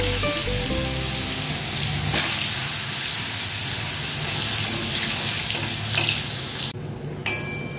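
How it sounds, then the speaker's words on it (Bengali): Pointed gourd (potol) coated in salt and turmeric fries in mustard oil, a loud, dense, continuous sizzle and hiss that eases slightly near the end. "এখন আমি পটল ভেজে দিচ্ছি, নুন হলুদ মাখানো।"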